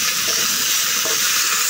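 Chopped okra and vegetables stirred in hot oil with fried chilies and onions in a pan, a loud continuous sizzle with faint scraping of the spoon underneath.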